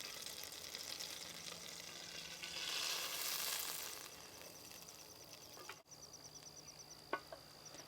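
Chunks of puffball mushroom fry in butter on a small Altoid tin stove outdoors, giving a faint, steady sizzle with a few soft clicks and taps near the end.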